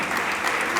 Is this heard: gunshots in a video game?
no